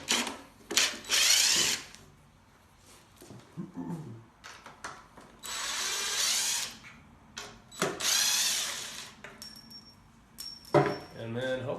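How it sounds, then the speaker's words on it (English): A power drill backing support screws out of a concrete countertop mold, several loud whirring bursts close by with short gaps between them, and a voice speaks briefly between the runs. "the first things you need to do is remove all of your support screws"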